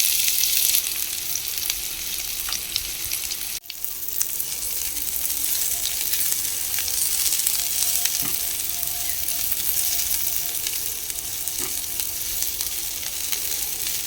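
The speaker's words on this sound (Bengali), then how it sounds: "তেলটা গরম হয়ে গেছে। কড়াইতে আমি পেঁয়াজ কুচিগুলো দিয়ে দেবো।" Chopped onion frying in hot oil in a wok gives a continuous broadband sizzle, steady and fairly close, with one sharp clatter early on and faint occasional stirring scrapes.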